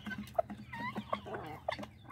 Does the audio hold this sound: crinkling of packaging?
no